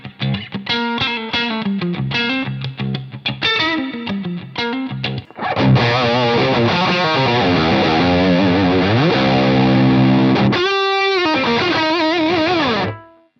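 Electric guitar played through a Victory V130 Super Countess amplifier in crunch mode, a loud distorted run of chords and riffs that swells into sustained, bending notes with a short pause before a final ringing phrase.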